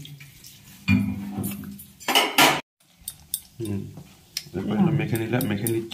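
A metal spatula clinks and scrapes against a tawa griddle pan in a home kitchen while soybean spices like turmeric and salt are prepared, sharp clatters in irregular bursts with a louder rattle near the middle, alongside a speaking voice.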